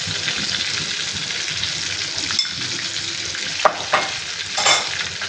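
A spice paste fries in oil for a prawn dish, giving a loud, steady sizzling hiss broken by a few stirring scrapes and spatters toward the end.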